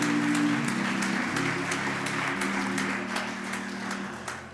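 Church congregation applauding during a service, a sustained wash of clapping from many hands that slowly thins out, with organ-like tones held beneath.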